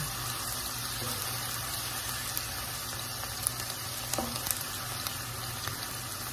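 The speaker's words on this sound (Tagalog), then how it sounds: "Medyo i-brown po natin yung onion guys" Onion browning in plenty of oil in a pan while cooking beef qeema, a steady close sizzle and crackle with occasional stirring taps, no voices.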